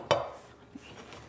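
Cast iron loaf pans are set down on a wire cooling rack with a sharp metallic clank, followed by a softer knock a moment later in a quiet kitchen.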